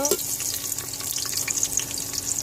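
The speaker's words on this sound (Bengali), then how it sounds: "ভালো করে একটু ভাজা ভাজা করে নেবো" Chopped onions frying in hot oil in a pressure cooker, with a bay leaf added, for a spicy beef curry: a steady close sizzle with light stirring scrapes throughout, and faint voice traces underneath.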